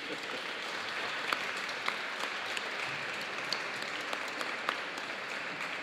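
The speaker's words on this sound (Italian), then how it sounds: "adesso non so questo applauso che hai chiesto" Light applause from an audience at an art lecture, a soft even patter of clapping with occasional sharper claps, fairly distant and continuing without speech.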